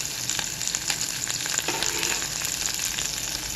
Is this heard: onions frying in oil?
yes